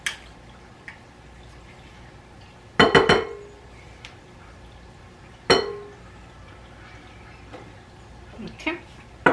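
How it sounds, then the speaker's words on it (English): Scattered sharp clinks of a utensil striking a mixing bowl while butter is mixed into maple apple cinnamon muffin batter, a few loud taps separated by quiet stretches. "we're gonna mix in the butter"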